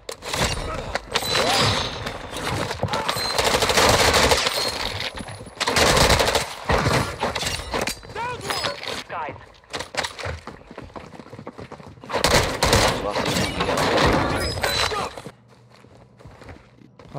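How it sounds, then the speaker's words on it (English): Automatic gunfire and shots from the video game Warzone 2.0 rattle in loud, dense bursts across most of the clip, mixed with footstep noise, before dropping to a quieter tail. "I'm in the middle of a four-man gunfire"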